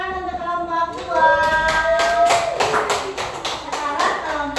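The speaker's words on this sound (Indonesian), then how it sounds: "tepuk tangan untuk kelompok 2" A classroom claps for student group 2 after their presentation: a steady run of light, overlapping hand claps starting about a second in, with voices and a tonal sound carrying over them.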